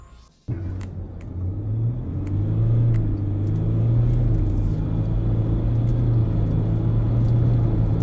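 A 2024 Ford Everest Platinum SUV launches and accelerates hard: after a brief quiet moment the engine bursts into a loud, deep rumbling roar that builds and holds strong.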